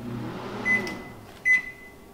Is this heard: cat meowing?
no